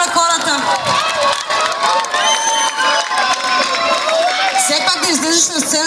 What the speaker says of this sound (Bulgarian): Малко аплодисменти, подкрепа им дайте на хората.